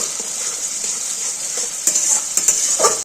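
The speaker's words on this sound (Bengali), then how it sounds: "একটু দই দিয়ে ভালো মতো একটু মিশিয়ে নেব" Vegetables, eggplant and bitter gourd, mixed with yogurt are stirred in a sizzling pan, a steady fry hiss with a few sharp spoon scrapes and clinks near the end.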